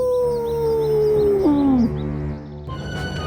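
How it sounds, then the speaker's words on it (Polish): A single long, loud wolf howl slides slowly downward in pitch before breaking off, with faint chirping in the background. "Wilk zawył głośno i przerażająco"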